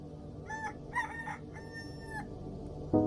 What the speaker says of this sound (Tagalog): Nagsisimula na nga tumilawak ang mga manok nang makatulog ako.